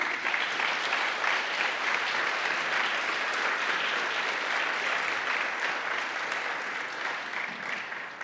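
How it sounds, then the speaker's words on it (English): Sustained applause from a conference audience at a library technology gathering, a dense, steady wash of many hands clapping for the full stretch, fairly close and even in loudness before easing slightly at the end. "Can we clap for them?"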